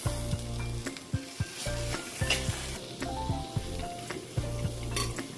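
Chopped tomato hits fried masala for a chicken curry, sizzling steadily while a spoon scrapes and stirs through it, with occasional light pan knocks and no talking.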